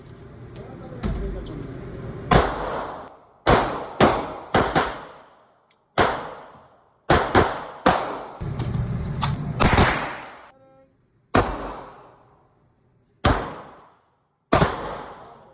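Glock pistol shots at a shooting range: around a dozen sharp, loud cracks fired one at a time at uneven intervals, each ringing out into a short echo, with someone speaking between some shots.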